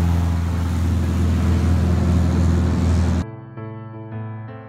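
Cessna 182 light aircraft on a short takeoff from a gravel bar, its engine a loud, steady roar at full power that cuts off abruptly partway through, leaving a thinner, quieter tonal drone.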